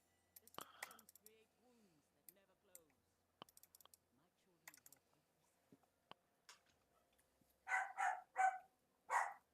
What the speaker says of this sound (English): And my dog's barking.